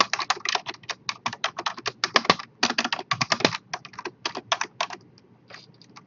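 Rapid clicking keystrokes on a computer keyboard as C++ code is typed, bursts of close, crisp taps that slow and thin out toward the end.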